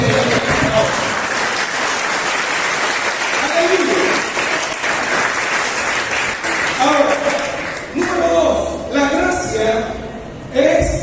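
Church congregation applauding during a Spanish-language sermon, a broad sustained wash of clapping that runs the whole stretch, with the preacher's voice coming in and out over it toward the end.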